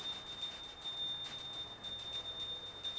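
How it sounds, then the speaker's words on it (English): A small metal hand bell is rung continuously during a Hindu dhupa incense offering ritual, producing a bright, rapid, evenly repeating ring at moderate loudness with no speech. "take the bell in your left hand and start ringing the bell"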